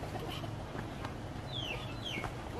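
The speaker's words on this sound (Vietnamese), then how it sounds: "đây con gà thả vườn" Free-range chickens on a highland village farm cluck softly in the yard, with a couple of brief higher calls rising over steady outdoor background noise.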